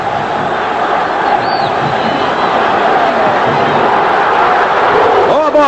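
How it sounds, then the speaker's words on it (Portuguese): A stadium crowd at a 1974 Palmeiras football match cheers and roars as a steady, loud wall of noise throughout, with a commentator speaking over it. "Anima-se a torcida."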